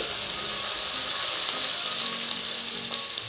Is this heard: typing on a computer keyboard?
no